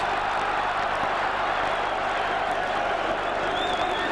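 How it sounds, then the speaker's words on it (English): A rugby league crowd at Headingley, Leeds, in 1986, during an Australia versus Leeds match, gives a steady, broad roar of cheering that holds at the same level throughout. "There's the crowd warming to this Leeds strong defensive effort on that occasion"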